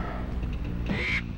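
A bird in Crash Bandicoot on the PS1 gives a short, sharp squawk, loud and duck-like, over steady game background sound with no talking.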